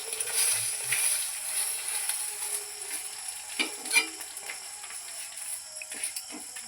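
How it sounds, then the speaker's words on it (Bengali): Egg rolls frying in a pan, eggs cracked over the rolled breads, make a soft continuous sizzle with occasional light clinks and scrapes of a utensil, fairly quiet and without talk. "দেখো ডিমগুলো ফাটিয়ে এর মধ্যে দিচ্ছি, দিয়ে দেখো রোল ভাজছি"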